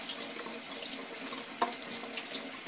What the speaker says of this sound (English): I'll rinse my fingers off.